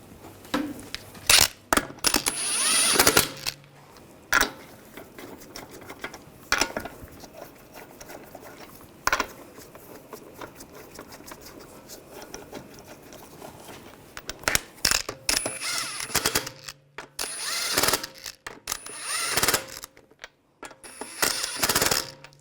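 Lug bolts threaded by hand and snugged onto a 2009-2017 Volkswagen Tiguan front wheel during axle replacement, giving scattered metallic clinks and scraping bursts, some close and sharp, with quieter rustling between.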